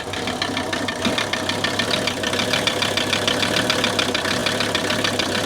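A diesel engine that just fired up without glow plugs runs on at a steady, loud idle close by, with a continuous rattling knock throughout.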